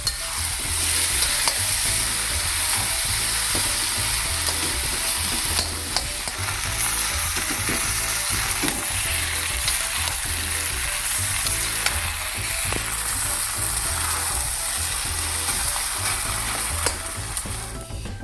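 Pork and rice for Thai fried rice sizzle steadily in a hot pan, with a spatula scraping and stirring in a repeating rhythm, loud and close with no voices.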